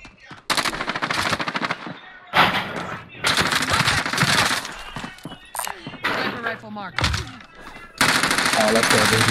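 Bursts of automatic gunfire in a Call of Duty squad match, loud rapid volleys separated by short gaps, with players talking over and between the shooting.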